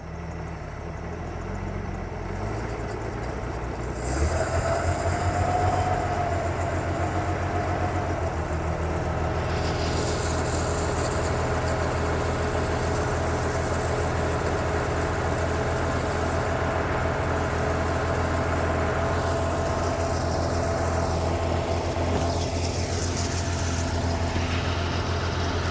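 Mercruiser inboard boat engine, one of a 165hp and 120hp pair being winterized, turns over and settles into a steady running drone, its pitch and loudness rising slightly as throttle is applied and then holding constant for the rest of the clip.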